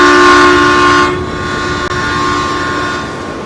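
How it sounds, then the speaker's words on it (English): A train in Farming Simulator 19 sounds a loud, sustained horn blast that cuts off after about a second, followed by the lower rumble of the cars rolling past nearby. "It's like, here comes the train."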